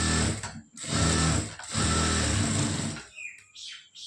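Sewing machine stitching a blouse's lining cloth, running in loud steady bursts with two short pauses, then stopping near the end, followed by faint small clicks.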